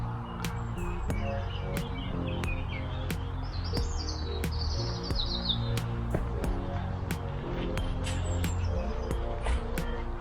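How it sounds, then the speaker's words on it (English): Birds chirp and sing by a river on a spring walk, with repeated sharp tweets and trilling calls over steady flowing water and a low background rumble. "Plenty of birdsong to keep me company."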